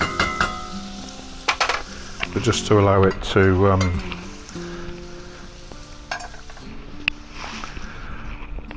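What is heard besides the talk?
food sizzling while frying in pan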